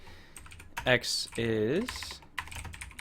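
Fingers typing on a computer keyboard while writing Java code, with quick clicking keystrokes running beneath someone talking.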